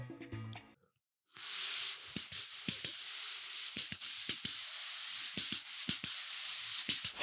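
A human train imitation made with the mouth: a steady breathy hiss of air with rhythmic puffs and clicks chugging along, close and fairly quiet, after a brief gap of silence at the start.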